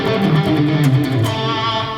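Heavily distorted metal guitar tone from an Axe-Fx 3 playing a fast descending triplet pentatonic run, dense and loud with no voices.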